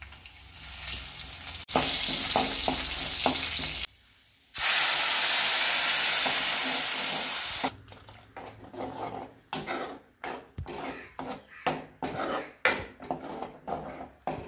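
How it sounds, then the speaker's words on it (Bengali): Hot oil tempering black mustard seeds, chopped shallots, whole dried red chillies and curry leaves: loud sustained sizzling and hissing spits, then rapid crackling pops and stirring clatter close by. "ফোড়নে লাগবে কালো সর্ষে, ছাঁচি পেঁয়াজ কুচি, গোটা শুকনো লঙ্কা আর কারি পাতা।"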